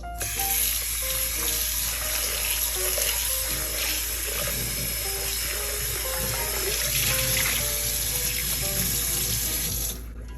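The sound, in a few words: water running while rinsing a Staub cast iron cocotte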